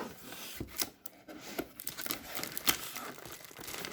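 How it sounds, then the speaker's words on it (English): Dollhouse kit packaging from Cutebee, a chocolatier-themed kit, crinkles and crackles up close as plastic wrap is pulled and torn open in uneven bursts, with a few sharp ripping peaks and no talk. "Okay, so let's unwrap."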